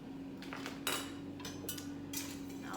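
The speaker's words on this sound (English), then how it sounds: "I'll take my whisk and just whisk this in until it all looks like it's dissolved in my milk." A whisk stirring beef gelatin powder into raw milk in a bowl, giving a few brief metallic clinks and scrapes spaced across a quiet room, with a steady low hum underneath.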